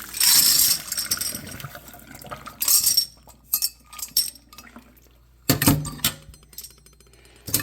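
Hot liquid being strained into glass jars on a homestead bottling day, heard as intermittent pouring and splashing with glassy clinks and knocks, fairly close, in several separate bursts with short quiet gaps.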